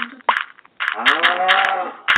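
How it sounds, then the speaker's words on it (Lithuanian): A cow in Minecraft PE gives a long, drawn-out moo, preceded by a few short blips of game sound and followed by clicks, heard alone and fairly close. "Turėsim karvę, garantuoti"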